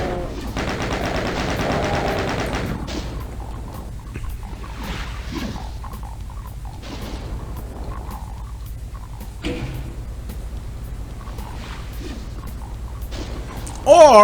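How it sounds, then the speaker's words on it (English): A very loud weapon in Doom 2 fires in a fast, dense burst of repeated shots for about two seconds, followed by quieter game sounds and thuds, with a sharp louder hit at the very end. "Now we have the noisiest weapon in any video game ever."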